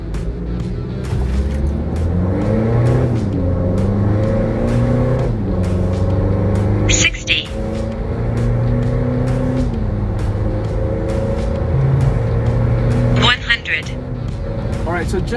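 A 2017 Mitsubishi Montero 2.4 with full exhaust and bigger tires accelerates hard from a standstill to 100, engine droning loudly from inside the cabin with pitch rising and dropping through gear changes.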